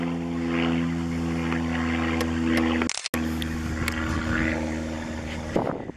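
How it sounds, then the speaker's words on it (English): A steady, droning aircraft engine hums overhead for several seconds, a low continuous roar with a brief dip partway through. "There goes another plane."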